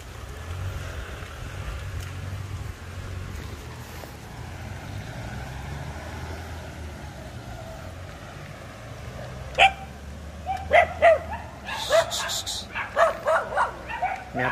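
Dogs barking on a town street in Nicoya during a bicycle ride, a burst of repeated sharp barks and yips arriving late over a steady low rumble of riding and traffic noise.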